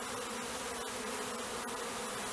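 A honeybee swarm buzzing around a bait box outdoors, a dense continuous drone of many wings, loud and close, with no talking.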